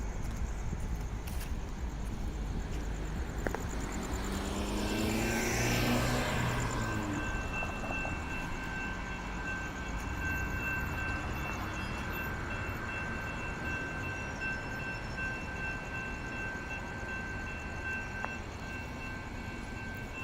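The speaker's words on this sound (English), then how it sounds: "Oh, here it is. It's a train coming" A train passes a railroad crossing on Cooper Road in Gilbert, Arizona, with a distant rumble building and sweeping past, plus a steady crossing-signal tone and a faint horn, heard from a moderate distance with no talking.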